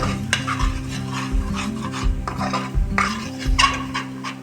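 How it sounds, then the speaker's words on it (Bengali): Raw banana curry with gram flour being sautéed in a pan, a steady stir and scrape with soft sizzling and a few louder clanks of utensil against the pan, close up with no talking. "সুন্দর করার জন্য দু চামচ বেসন দিয়ে ভালো করে এটাকে আমি কষাবো"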